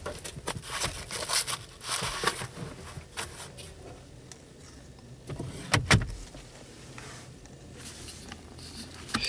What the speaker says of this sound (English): Glove box.